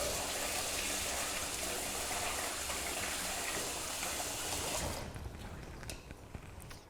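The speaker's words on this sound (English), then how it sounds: "this rice has to be washed pretty quickly" Water gushes steadily from a tap while rice is being washed for cooking, a loud broadband rush that cuts off near the end, leaving faint clinks and drips.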